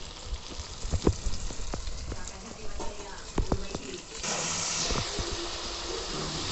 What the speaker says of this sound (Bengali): মাংসর সঙ্গে আমি মশলাগুলিকে ভালো করে কষিয়ে নেব